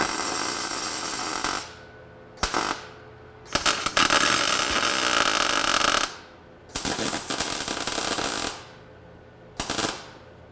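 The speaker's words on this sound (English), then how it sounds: "I could get in there and finish the rest of my rosette welds along the edge of this part where the gas tank support is" A MIG welder lays rosette plug welds along a Porsche body panel near the gas tank support: close, loud crackling buzz in several bursts of one to two seconds, each ending abruptly, with brief quiet gaps between.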